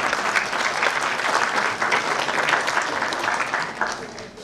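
Sustained applause from a church congregation for a priest at a charity event, a dense steady wash of many hands clapping without pause for several seconds.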